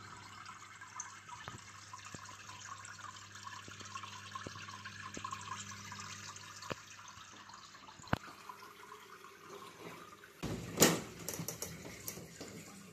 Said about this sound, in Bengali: দেখো পিছনে যেমনটা জল পড়ছে কত সুন্দরভাবে